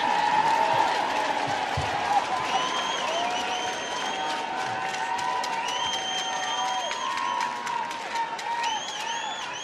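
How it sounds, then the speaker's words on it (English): A large stadium crowd at the Women's Rugby World Cup final between England and New Zealand applauds and cheers steadily, with whistles rising above the sustained clapping throughout. "the majority of the crowd have stuck around as well, just to cheer on New Zealand"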